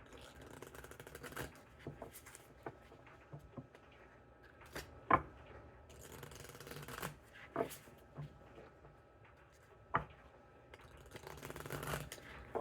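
Tarot cards shuffled close by in soft, papery riffles and flicks with irregular sharper snaps, set against a very quiet room.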